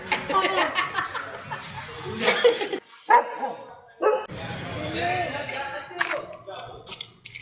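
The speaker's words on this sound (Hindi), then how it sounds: "तो आपने देखा कुत्ते कैसे भौंक रहे हैं।" Several dogs bark at night in Connaught Place, Delhi, with close, loud, irregular bursts of barking and yips, broken by brief pauses, while someone talks and chuckles nearby.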